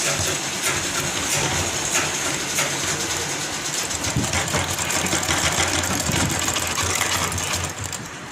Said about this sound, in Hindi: ये मेरी सिलाई दोनों मुड्डों की कंप्लीट हो गई।